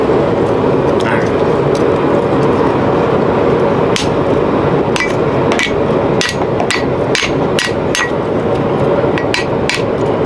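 A hammer strikes a two-piece spring fuller on metal several times at an irregular pace, sharp ringing clangs rising above a loud, steady roar of background noise.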